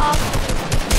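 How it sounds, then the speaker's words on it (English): Rapid gunfire in the Fortnite video game, a burst of several loud, close shots fired in quick succession with a clattering, automatic rhythm and no talk over it. "Bro, I'm being shot from different directions."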